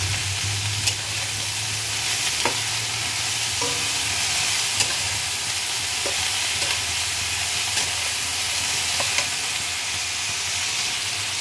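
Winter vegetables fry in a pan for a small kachki fish curry, giving a loud, steady hiss. A few sparse spatula clicks sound throughout, with no talking.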